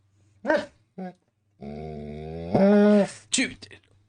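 A dog lets out short growls and a sustained rising growl-bark, loud and close, with a voice speaking French around it.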